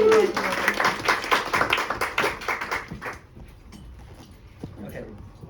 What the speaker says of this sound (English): Okay, a round of applause.